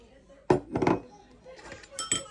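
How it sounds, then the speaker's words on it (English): Eggs being whisked in a prep bowl, heard as a few loud clinking strokes of a utensil against the bowl, close and up front with no talking. "Prep bowl, we whisk 2 eggs"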